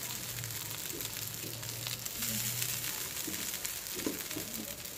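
Potatoes frying in a pan ahead of flattened rice being added, a steady soft sizzle with low hum underneath and faint scraping stirs, fairly quiet throughout.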